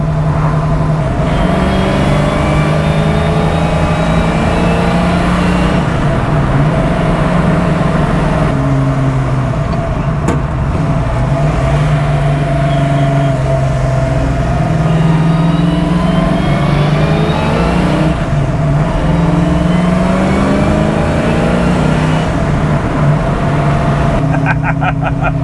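A car drives along winding country roads with new brakes and tires, its engine droning steadily and surging as it accelerates; the sound stays close and continuous throughout, with some speech mixed in.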